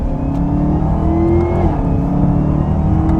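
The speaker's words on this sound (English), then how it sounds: "And that's the supercharger whine." A supercharged Chevrolet Camaro accelerates hard, its loud, steady engine roar carrying a high supercharger whine that holds close and continuous throughout.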